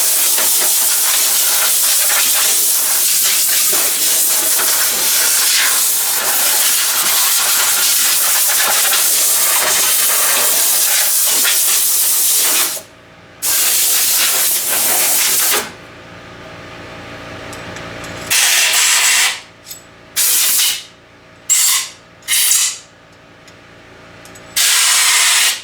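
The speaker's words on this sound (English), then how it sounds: "I'm going to go ahead and blow this out with some air." Compressed air blasts through a Coleman two-burner propane stove, a loud continuous hiss for about thirteen seconds, then a string of shorter bursts broken by brief pauses.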